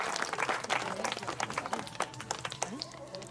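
An audience at an animal park birds-of-prey show claps for a trained bird. The scattered applause is moderately distant and mixes with crowd murmur and outdoor ambience.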